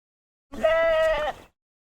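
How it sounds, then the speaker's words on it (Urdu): A single goat bleat, one wavering cry of about a second, close and clear against silence, with nothing else around it. "اس نے ایک بکرے کی آواز سنی"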